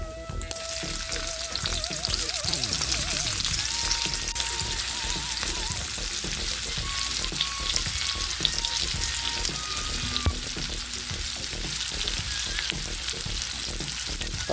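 Onions sautéing with garlic and pork belly in a pan make a steady, even sizzle throughout, with faint tonal sounds in the background and no talk.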